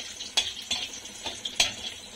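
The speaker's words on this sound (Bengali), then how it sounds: "এখন একটু নাড়বো এটা এগুলোর থেকে যাতে ফ্লেভারটা বের হয়" Cardamom pods and bay leaves fry in oil in a pan while a spoon stirs them, making four or five quick scraping strokes over a soft, close sizzle.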